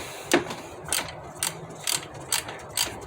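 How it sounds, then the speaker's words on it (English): A hand ratchet clicks in short bursts while tightening a cartridge-type oil filter housing, six crisp, evenly spaced ratcheting strokes close up in a quiet workshop. "take your ratchet and your socket."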